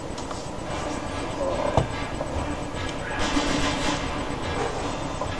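Train rolling through a train yard in a video game, a loud, dense rumble with rattling wheel noise and one sharp clank partway through, steady throughout.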